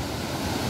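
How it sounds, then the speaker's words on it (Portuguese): A large waterfall swollen by heavy rain roars as a loud, dense, unbroken rush of falling water, close by and without pause. "Pessoal, olha essa cachoeira."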